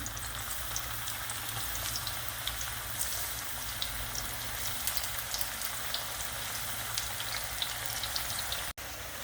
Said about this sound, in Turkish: Artık patlıcanları kızartmaya başlıyoruz bu şekilde.